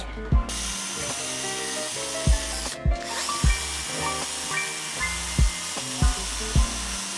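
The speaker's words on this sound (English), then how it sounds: "Alright, so now we can drill the holes." A power drill bores holes in steel friction folder knife parts, giving a steady motor whine broken by sharp, regular ratcheting clicks and bites, close and loud, with no talk.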